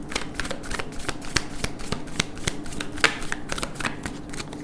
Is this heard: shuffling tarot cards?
yes